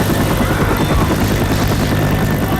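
A helicopter in Left 4 Dead 2 thumps with loud, continuous rotor chop and engine roar, close and steady throughout.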